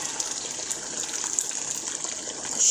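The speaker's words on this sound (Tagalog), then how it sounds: "Lagyan na natin ng tubig." Water gushing from a tap into a pot of kabsa with meat, a close, steady pouring stream that swells louder at the end, with no talking.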